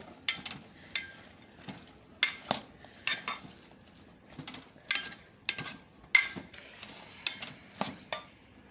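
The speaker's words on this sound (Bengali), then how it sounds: "এগুলা ভালোভাবে নেড়ে চেড়ে দিতে হবে" Vegetables being stirred in a pan with a metal utensil, a series of irregular scraping clinks and knocks against the pan over a soft background sizzle, fairly close and without talk.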